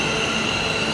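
A metro train in India near Kanakapura rolls through with a steady, loud metallic rush and a sustained high wheel squeal, heard alone for a brief moment.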